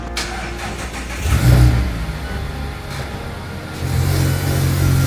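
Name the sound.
car engine revving as car arrives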